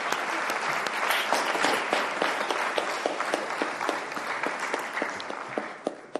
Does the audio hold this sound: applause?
yes